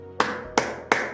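A church congregation clapping in unison during Korean worship: three sharp, evenly spaced group claps, close and loud, with no talk.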